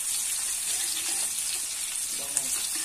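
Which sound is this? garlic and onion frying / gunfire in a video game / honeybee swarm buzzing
garlic and onion frying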